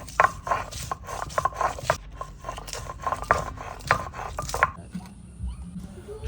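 Coconut, mustard, onion, chilli, ginger and garlic are ground by hand, making a steady scraping, rubbing rhythm of strokes close by that stops near the end.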